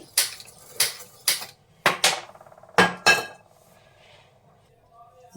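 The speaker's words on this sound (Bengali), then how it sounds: "এবার বসিয়ে দিলাম একটা কড়াই" A metal wok is set down on a gas stove with a handful of sharp, ringing clanks and knocks, loud and close, followed by a quiet stretch.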